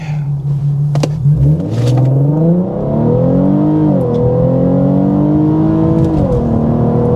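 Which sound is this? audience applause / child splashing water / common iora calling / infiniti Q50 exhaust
infiniti Q50 exhaust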